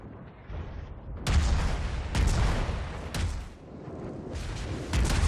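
Naval guns firing in the World of Warships video game, four or five heavy booming salvos spaced about a second apart, each a sharp loud crack with a rumbling tail.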